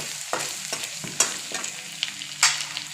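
Dry spices stirred into a bombil fish curry in a pan: a soft sizzle under repeated spoon scrapes and taps against the vessel, irregular and close, with no one speaking.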